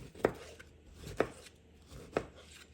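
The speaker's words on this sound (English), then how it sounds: "So I just got a big one and diced it up." A knife dicing a large tomato on a board, three separate soft, close chops spaced about a second apart, faint and without talk.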